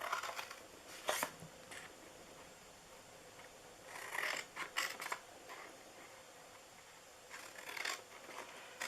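Scissors snip through material for a holiday treat box in a quiet room, with several separate clusters of crisp cuts spaced a few seconds apart.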